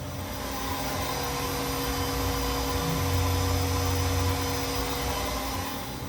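A 2013 Haas VF-2 CNC vertical machining center spindle runs at 5,000 RPM, giving a loud, steady mechanical whine and hum that shifts pitch slightly midway and holds throughout, with no talk.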